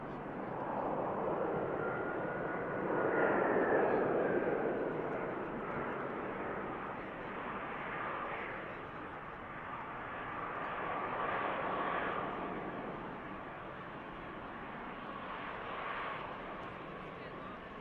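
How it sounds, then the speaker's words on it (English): An EasyJet airliner touches down at Manchester Airport with a sustained, moderately distant jet rumble that swells early and then eases into a long whine, while someone talks over it. "Nice touchdown from the EasyJet."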